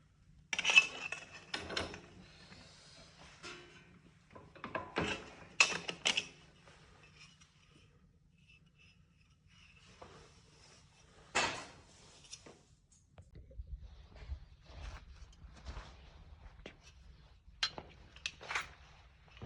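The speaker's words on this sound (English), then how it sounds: "I got a small sheet metal bending machine here" A small sheet metal bending machine folds a piece of sheet metal to 90 degrees while building a wood stove, giving a few sparse metallic clanks and creaks with quiet gaps and a low rumble near the end.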